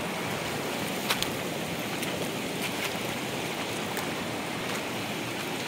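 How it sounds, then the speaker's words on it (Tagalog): Steady rushing of a flowing river stream along a riding trail, a constant broadband wash of water with occasional faint clicks, fairly quiet and without talk. "Rinig na rinig yung lagaslas ng tubig."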